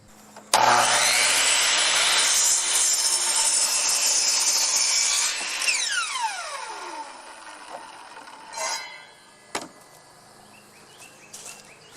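Steady hand sawing through a hard 2x6 wooden board, a continuous rasping stroke that ends with a scrape and a couple of sharp knocks as the piece drops.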